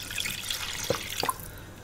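Water poured from a tap or jug into a frying pan holding chicken gizzards on a gas stove, a soft splashing trickle with a couple of small drip splats, faint and brief with no talking.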